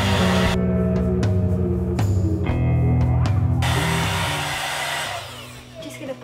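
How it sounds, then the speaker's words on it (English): A handheld hair dryer on medium heat blows steadily while roughly drying hair, a continuous close, loud whirring hum with some mechanical rattle and clicks, fading slightly toward the end. "I'm just gonna dry this on the medium heat, and I'm gonna just roughly dry my hair."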